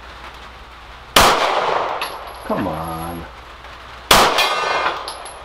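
Two rifle shots from a Bear Creek Arsenal Grizzly fired outdoors in rain, each followed by a sharp metallic clang and ringing from a steel gong target, with a brief spoken remark between the impacts.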